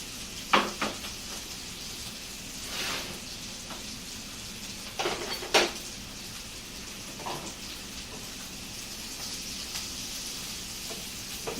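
Onions frying in bacon grease on a grill, a steady close sizzle broken by a few sharp clicks and scrapes of a utensil, with no talking.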